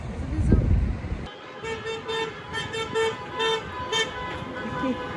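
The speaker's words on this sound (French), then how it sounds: "Ça klaxonne de partout" Car horns toot repeatedly in a busy Moroccan street at night, several short honks of varying pitch over traffic noise, following a brief loud thump at the start.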